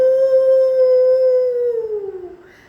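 A single wolf howl, one long sustained tone held steady and then sliding downward as it fades, loud and close with no other sound around it.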